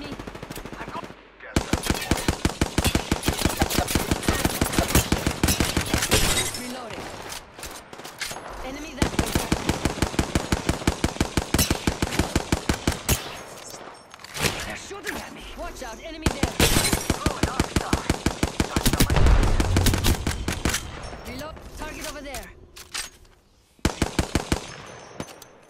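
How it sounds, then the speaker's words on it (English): Automatic gunfire in the shooter game Apex Legends, loud rapid bursts in several long volleys separated by brief pauses, with faint voices now and then. "Getting shot at."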